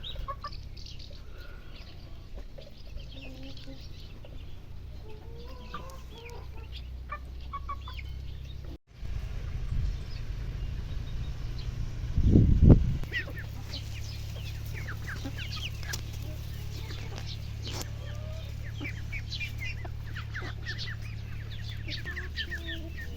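Hens and young roosters cluck and chirp softly around a farmyard, with a louder squawk midway and steady low background noise throughout.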